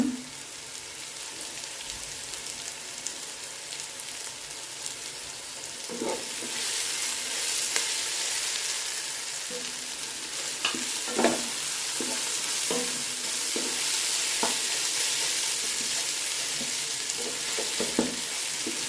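Mint leaves sautéing in a pan for vegetable biryani, a steady broadband sizzle that grows louder midway, with a few sharp stirring scrapes and clicks scattered through, no talking.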